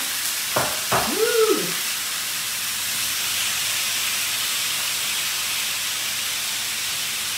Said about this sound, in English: we have that nice sizzle going